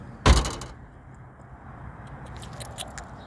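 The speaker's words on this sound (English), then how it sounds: "What's that door?" A door makes a single sharp, close bang near the start, followed by quiet rustling and faint movement.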